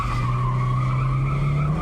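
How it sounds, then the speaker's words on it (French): A Datsun Cherry's tyres skid in a long controlled drift through a corner, a steady sustained squeal over the engine's drone, loud and close, with no pause for nearly two seconds. "Et vous glissez pendant les 3/4 du virage, presque tout le temps en dérapage contrôlé."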